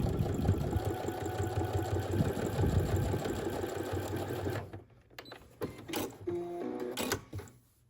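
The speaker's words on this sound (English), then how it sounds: "Sew across with your 1/4 inch seam allowance." Sewing machine running a 1/4 inch seam, a steady close motor whir with rapid needle ticking for about five seconds, then stopping to a few mechanical clicks and handling noises.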